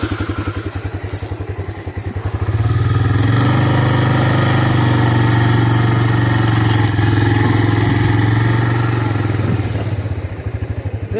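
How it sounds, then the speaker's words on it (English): Old Honda Big Red ATV engine pulling a log trailer along a trail: a steady, loud mid-pitched engine drone that revs up after about two seconds and holds, with thumping and clatter from the load, no talking. "we're going to see if the old Honda Big Red's up for pulling that."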